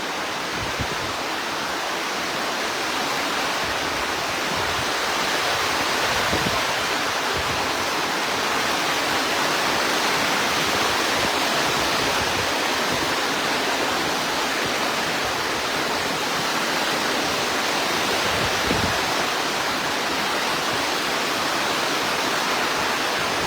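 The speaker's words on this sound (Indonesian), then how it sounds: "Ini anginnya semakin kencang Tribuners." Heavy rain with strong wind in Maros, a dense, constant roaring wash of noise that stays loud and unbroken throughout, with no voices.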